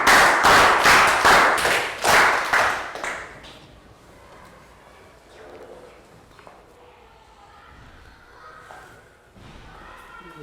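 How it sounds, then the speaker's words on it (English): Children in a Year 3 classroom give a round of applause in rhythmic, loud unison claps for a few seconds. It then stops abruptly, leaving quiet room noise and faint voices. "Round of applause for Pastor."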